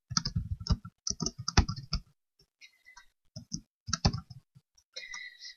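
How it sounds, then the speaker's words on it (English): Someone types on a computer keyboard while adding text in Photoshop CS6, close and clear. Irregular bursts of quick clicks are separated by short pauses, with a few lighter taps near the end. "My stupid keyboard, when I'm typing"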